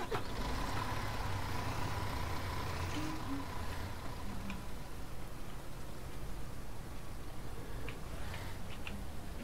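Steady engine drone and road rumble from a vehicle driving in the farming game Ranch Simulator, a continuous, even noise with faint ticks and clicks over it and no talking.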